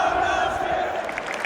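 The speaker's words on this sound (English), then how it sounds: "He's getting the claps now." A football stadium crowd applauds an injured player being taken off during a heated match: a dense, steady wash of many hands and voices, fairly loud and continuous throughout.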